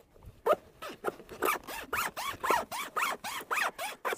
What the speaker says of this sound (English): as you can see from the dust coming off the zipper, just running the zipper itself